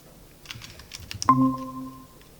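Short burst of computer keyboard typing, a quick run of clicky keystrokes followed by a brief tonal beep, fairly close with no talking.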